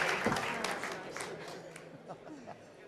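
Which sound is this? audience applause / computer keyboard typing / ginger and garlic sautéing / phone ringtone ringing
audience applause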